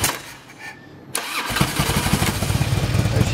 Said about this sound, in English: I'm going to start it up and let you hear this exhaust.